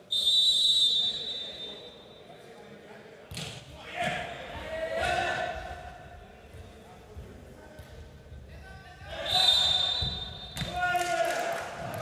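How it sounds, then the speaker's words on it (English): A referee's whistle sounds at a Silver Nations League volleyball match between the Netherlands and Latvia, shrill and loud at the start and again near the end, amid arena crowd noise, ball thuds and commentary. "That full whistle against Luc Adema."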